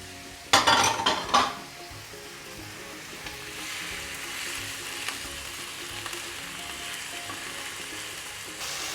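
Minced meat drops into a pan of hot olive oil beside softened onions. A sharp burst of sizzling and clattering comes first, then settles into a steady, quieter frying hiss with faint utensil clinks.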